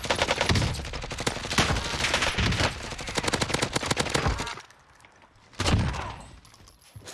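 Hip-fire gunshots in Call of Duty Warzone, loud rapid bursts of automatic fire filling the first few seconds, then a pause and another short burst near the end, with no talking.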